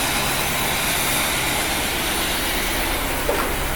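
A 1975 Chevrolet C3 Corvette V8, long neglected and smoking in cold weather, idles with a steady low rumble and even exhaust throb, close by and continuous with no voices.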